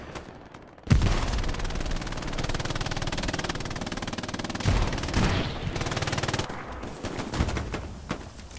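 MG42 machine guns firing on a front line in the video game Hell Let Loose, long sustained bursts of rapid automatic fire with heavier blasts mixed in, loud and continuous over several seconds.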